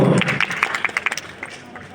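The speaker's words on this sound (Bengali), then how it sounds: "জোরে হাততালি" An audience claps at a convocation ceremony, giving a burst of close, scattered claps that thins out over two seconds, with a voice at the start.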